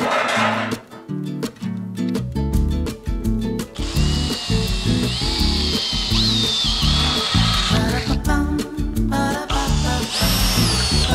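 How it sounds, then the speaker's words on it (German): A power drill bores mounting holes into a steel wardrobe, whirring in repeated loud bursts with pitch shifts as it bites into the metal, stopping and restarting close by. "Jetzt noch Befestigungslöcher bohren."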